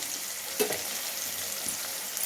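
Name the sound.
onion sautéing in a pan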